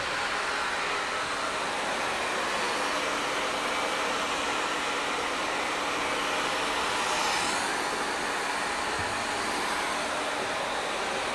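Hair dryer blowing steadily while drying curly hair during a creative curly cut, a loud, close, continuous whoosh with no break across the clip.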